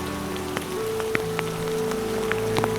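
Steady rain falls at Hiranyakeshi temple in the Amboli forest. A continuous wash of rainfall carries scattered individual drops and drips over a low hum, with no talk heard.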